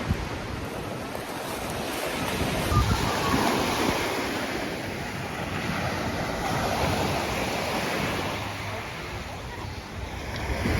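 Black Sea surf washing onto the shore on a sunny, bustling day, a steady broad rush of waves with wind buffeting the microphone, continuous and fairly close.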